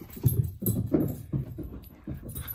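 A dog growls and huffs close by in short, rhythmic bursts, about two per second, at moderate volume.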